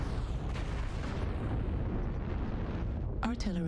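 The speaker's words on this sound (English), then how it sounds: "Artillery like, what is this?" An artillery strike in the MechWarrior video game lands as a heavy, sustained rumbling explosion that roars close and loud for several seconds, with a brief voice cutting in at the end.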